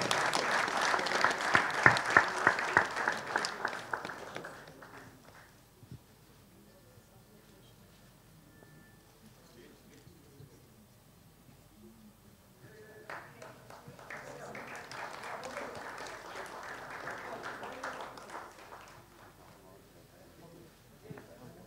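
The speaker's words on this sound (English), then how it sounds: "Give him a round of applause, everybody." An audience at a cricket-themed sports event breaks into loud applause at the start, then fades out; a second, softer round of clapping rises later, with some background noise between.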